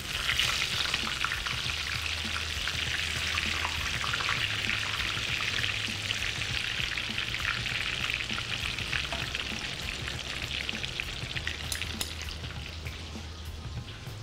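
Eggplant fries in a pan with a steady, dense sizzle and crackle that holds throughout, close and continuous, with a low hum underneath and no talking.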